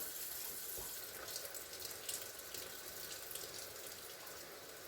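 A kitchen tap runs steadily into a soup pot as water is added to a simmering chicken broth, a soft continuous hissing splash, faint and close, with no talking.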